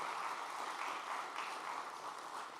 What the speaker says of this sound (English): So I think a big, big round of applause.